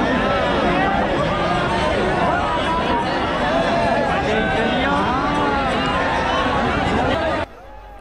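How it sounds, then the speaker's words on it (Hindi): A dense crowd on the road in front of Prem Mandir temple during Janmashtami celebrations murmurs and chatters continuously, many overlapping voices close by, until the sound drops off sharply near the end. "ये देखो प्रेम मंदिर के सामने ही रोड पर कितनी ज़्यादा भीड़ है"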